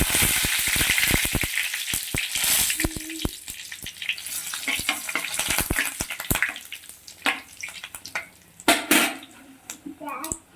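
Chillies fry in hot oil in a kadai for tempering, giving a crackling sizzle with sharp pops and spits that fades toward intermittent bursts, with faint talk in the background.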